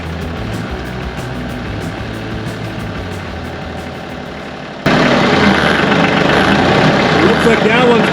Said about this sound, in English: Let's move the tractor and see if we can get that one down.